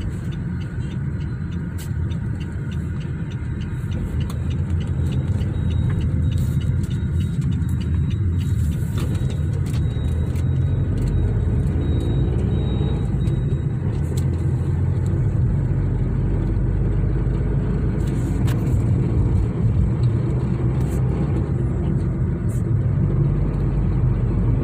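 Tata Tigor XZ+ car driving on an open road, a steady low engine and road rumble heard from inside the cabin throughout, with faint intermittent rattles and clicks.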